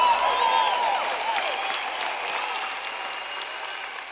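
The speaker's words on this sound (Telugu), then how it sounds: "డేవ్ కోసం చప్పట్లు కొట్టండి" An audience claps for Dave at a talk, with steady, dense applause from a crowd that holds strong and then slowly thins out.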